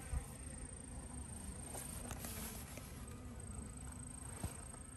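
Honey bees at a hive feeding on a sugar cake give a steady, faint buzzing drone with soft, continuous outdoor hiss and no talk.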